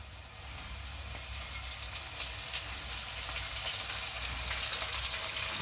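Calamari pieces frying in hot oil at 170 degrees, giving a steady, moderately quiet sizzling hiss that continues evenly without any voices.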